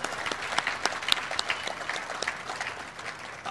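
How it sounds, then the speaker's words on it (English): An audience at a ribbon-cutting ceremony for an industrial technology center applauds, a steady patter of many hands at moderate, somewhat distant volume for a few seconds. "Let's give them a great big round of applause."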